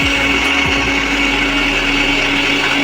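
A blender runs continuously, whirring dates with cold milk into a sherbet, a loud steady motor drone close up with no voices.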